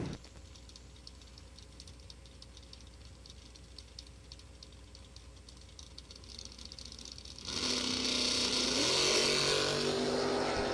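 Drag racers, a red Chevy Nova and a Chevy II wagon doing a wheel stand, idle with a low rumble at a distance before both engines suddenly roar to full throttle at launch, loud and sustained.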